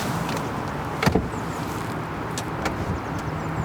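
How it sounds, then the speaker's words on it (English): An electric NIO ET7 door pulling itself shut with a soft-close latch, heard as a short mechanical thunk near one second followed by a fainter click, over steady low cabin or outdoor background noise. "when you close the door, it automatically pulls in gently to lock the door"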